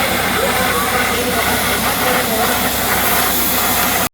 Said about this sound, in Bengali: এটা কিন্তু বাষ্পচালিত ইঞ্জিন, দেখতেই পাচ্ছেন আপনারা।